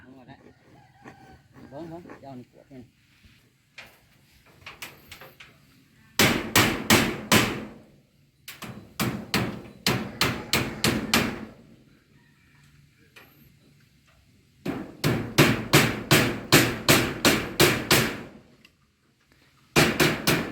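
Bursts of rapid, sharp hammer blows in steady runs of a dozen or so strikes, separated by quieter pauses with faint voices and a distant rooster.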